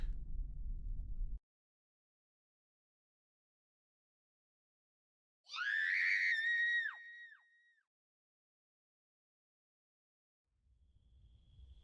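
A woman's sharp, piercing scream rings out once for about two seconds in near silence, with low rumbling noise before and after.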